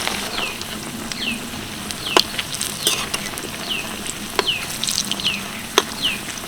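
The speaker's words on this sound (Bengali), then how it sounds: "আর এগুলোকে ভাজার সময় কিন্তু আঁচটাকে অবশ্যই মিডিয়াম রাখতে হবে" Onion-coated snack rolls fry in oil over a medium flame, giving a steady close sizzle with soft crackles and occasional sharp pops, no voices present.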